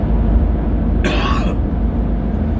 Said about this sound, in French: excusez, je tousse